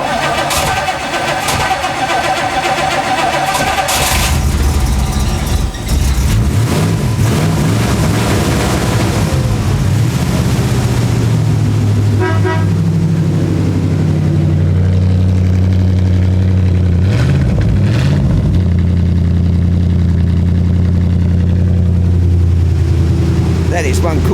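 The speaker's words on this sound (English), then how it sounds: "You can hear this thing coming down the block. This is the Studebaker Avanti" A Studebaker Avanti engine rumbles in the street, a loud low exhaust note revving and settling into a steady idle, with people talking over it.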